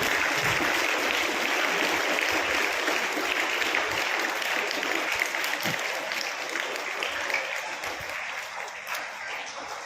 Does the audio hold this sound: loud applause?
yes